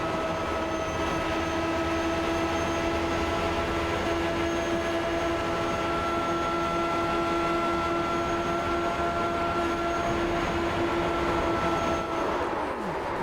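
An IndyCar engine roars onboard during an Indy 500 race in a racing video game, holding a loud, steady, sustained drone with a strong pitched whine, then dropping in pitch near the end, with no voices.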